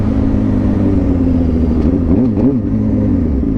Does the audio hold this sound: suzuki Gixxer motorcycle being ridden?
yes